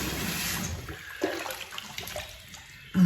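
Tap water running to refill fresh water for a coticule sharpening stone, a steady close rush of water for about three seconds with a knock at the end.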